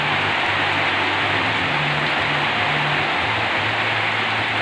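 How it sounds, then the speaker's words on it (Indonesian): Heavy rain mixed with strong wind over a village, a dense steady hiss of downpour filling the whole scene without pause, with a low rumbling undertone that may be wind gusts. "Hujan dicampur angin, guys. Sangat berat dan sangat kencang anginnya"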